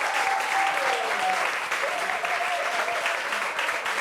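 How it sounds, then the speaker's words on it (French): A crowd at a French televised debate applauds steadily with dense, continuous clapping, while a voice carries briefly over the noise. "On applaudit. Applaudissements pour lui."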